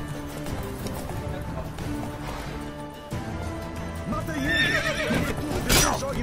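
Horses in The Witcher 3 video game, hooves clip-clopping steadily beneath a loud neigh and whinny near the end, with game sounds and someone talking throughout.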